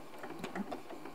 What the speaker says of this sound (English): All right, I'm gonna lock my stitches.